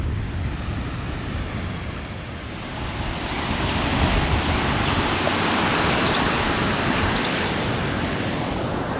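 Santa Fe River water heard from a trail ride on an upright trike, a broad steady rushing wash with a low rumble, continuous and fairly loud, swelling slightly midway, with wind noise on the microphone.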